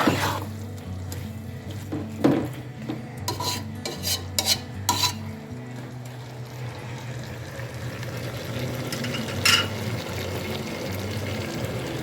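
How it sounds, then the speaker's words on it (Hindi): A spoon stirs mixed vegetable bhaji in a pan, giving scraping and clinking strokes over a steady low hum, with faint sizzling underneath. "अब इसे थोड़ा सा मिक्स करूँगी 5 मिनट के लिए"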